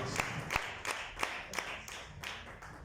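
Applause from a church congregation, heard as a steady series of sharp, evenly spaced claps at moderate volume that fade slightly toward the end.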